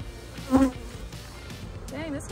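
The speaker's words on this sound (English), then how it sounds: "Dang, this hive's a little aggressive, more aggressive than normal." Honey bees from an aggressive hive buzz close by, a constant hum with a loud bee zipping past early on and another whining near the end.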